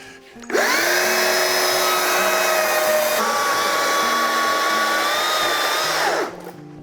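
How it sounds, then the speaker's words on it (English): A small electric chainsaw cuts into a tree trunk for a natural-edge hollow form, running as a steady loud whine for about six seconds before spinning down, with no talking. "I have a little electric chainsaw"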